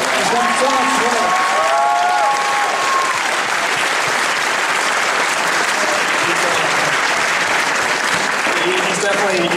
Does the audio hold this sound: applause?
yes